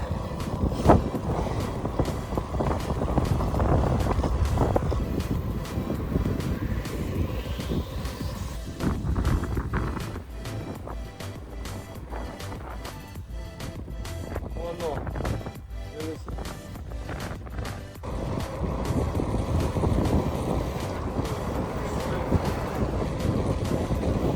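Gusty wind at a lake roars against the microphone in a heavy low rush that eases in the middle, with a voice talking through it.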